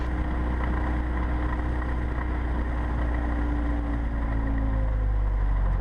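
A Cessna 172's piston engine runs at high RPM, filling the cockpit with a loud, steady, unbroken drone and propeller roar that holds level throughout with no pauses.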